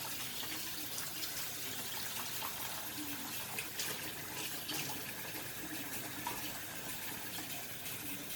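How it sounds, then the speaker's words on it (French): Boiling water poured from a short height into a bowl while preparing cassava and yam, giving a steady, close splashing trickle that runs unbroken and alone for about eight seconds. "Donc là, on va mettre de l'eau bouillante"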